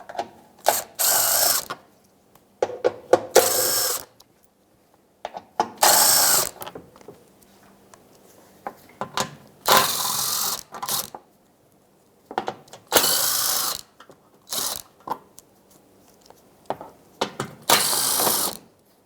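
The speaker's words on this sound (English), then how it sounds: "10mm socket. We're going to take all of them out." A ratchet with a 10mm socket backs out the skirting bolts under a Jeep Compass in a series of quick, loud, clicking bursts separated by short pauses.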